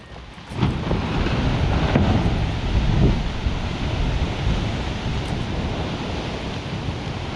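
Small waves lapping around a paddleboard in Arctic water near 80°N, a steady wash of surf under heavy wind buffeting the microphone, no voices.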